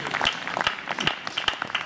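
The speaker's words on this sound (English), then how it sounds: "How about a nice round of applause" Audience applause for a jazz vocalist about to sing with a jazz orchestra at an outdoor lawn concert: a short, moderately loud burst of scattered hand claps with a few sharper individual claps standing out.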